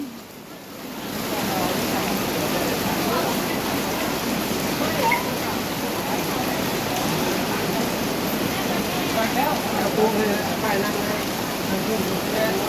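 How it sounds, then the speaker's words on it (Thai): Heavy rain pours steadily at a Thai merit-making gathering where elephants shelter under trees, a dense continuous hiss that fills the scene after a quieter first second, with a voice faintly present beneath the downpour. "ยังไม่หยุดนะคะฝนยังไม่หยุดนะคะ"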